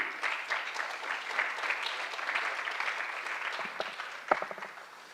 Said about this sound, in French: Vous pouvez monter, on peut les applaudir